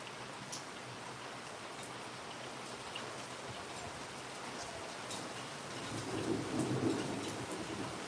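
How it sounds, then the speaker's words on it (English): Steady heavy rain pours throughout, with a low rumble of thunder swelling near the end. "Now I know you hear the thunder."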